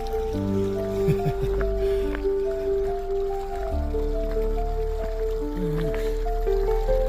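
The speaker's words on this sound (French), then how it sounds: "Ah ben voilà une petite baignoire publique, tiens." Water trickles and splashes into a public trough beside a hiking trail on the GR10, a steady close babble with scattered drips and some faint tonal sounds over it.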